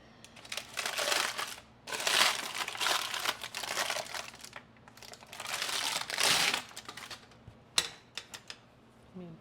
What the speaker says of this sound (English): I'm very carefully gonna grab my paper